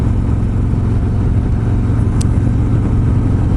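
Harley-Davidson Road Glide motorcycle cruising in third gear, a steady, loud, low engine drone with constant wind rush and no change in pace.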